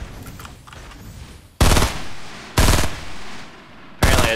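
Fortnite gunfire comes in three short, loud, sharp bursts with brief gaps of quieter game ambience between them.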